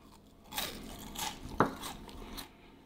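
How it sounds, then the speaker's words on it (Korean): Crisp crunching bites of grilled dried pollack, a few sharp crackles with one loud snap near the middle, close up and alone. "바삭바삭 씹히는 소리가"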